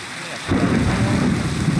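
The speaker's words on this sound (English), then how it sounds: "Oh, it's starting to rain." Rain and thunder in the Minecraft video game suddenly swell from near quiet into a loud, dense rumble with crackling rain noise, sustained for the rest of the moment without talk.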